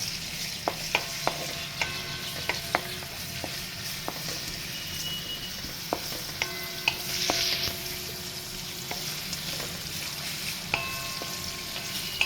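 Steady sizzling of onions frying in oil in a pan, with occasional clicks and scrapes of a spoon stirring, fairly close and continuous.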